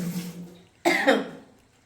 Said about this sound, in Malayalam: ചുമച്ച് ചുമച്ച്